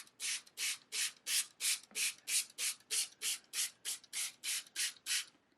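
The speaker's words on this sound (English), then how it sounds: "Sometimes you have to spray the water bottle at different angles like this to make sure that all the smoke is gone" A handheld spray bottle squirting water onto shaving cream, about a dozen crisp hissing sprays in a steady, even rhythm, close and fairly loud, with no talking.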